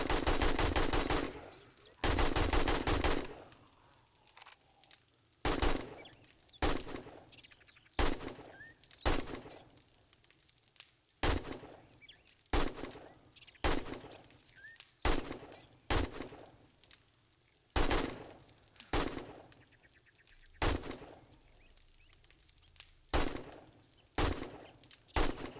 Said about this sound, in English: AK can shoot really far if you haven't noticed.